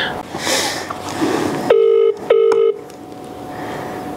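A phone on speakerphone dialling out, two loud sustained tones in a row with a brief gap between them, set against muffled room noise and low murmuring voices before and after.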